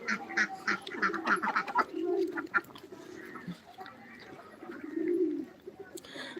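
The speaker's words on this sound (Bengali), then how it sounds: "আজকে সাড়ে নয়টায় হাঁসকে খাবার দিচ্ছি" Farm ducks quacking at morning feeding time, a dense burst of overlapping quacks at the start that eases into scattered calls, with low, throaty honks swelling again near the end.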